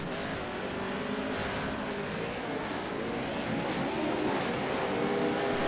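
Race cars in a sim racing game at a Wild West track, engines droning steadily and loud throughout as the pack runs close together, with no voices.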